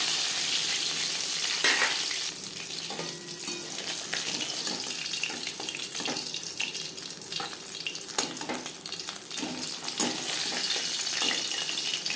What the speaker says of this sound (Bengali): মাছ ভেজে নেওয়া তেলে দিয়ে দেবো পেঁয়াজ কুচি